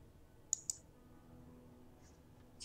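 Two quick, crisp mouse clicks close together, followed after a pause by a faint click and another near the end, all soft against a quiet background hum.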